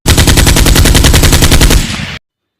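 A loud, close burst of rapid automatic gunfire aimed at a huge, dangerous wild boar in an audio drama, about two seconds of evenly spaced rattling shots that cut off abruptly into silence.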